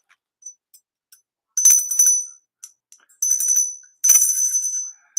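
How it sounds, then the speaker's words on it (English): A brass windmill bell rings in short, bright metallic bursts with quick decaying tones, several separate strikes and jingles, close and clear against near silence. "So this is a brass windmill bell."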